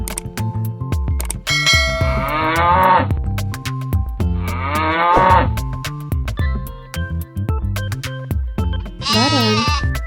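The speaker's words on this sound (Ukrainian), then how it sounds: "Корова." A cartoon cow moos in a few drawn-out, wavering calls over a busy musical backing in a children's animal-sounds cartoon.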